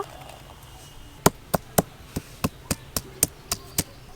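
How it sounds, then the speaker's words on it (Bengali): Ginger and garlic pounded together into paste in a home kitchen, heard as about ten sharp, evenly spaced thuds, close and fairly loud, over a quiet room. "আদা রসুন একসঙ্গে বেটে নেব।"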